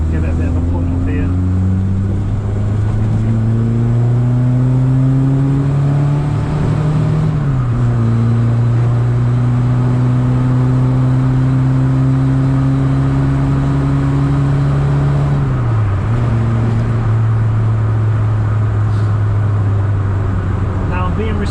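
Old Ford car engine revving and accelerating hard, a loud steady drone that climbs in pitch through two gear changes, with people talking over it.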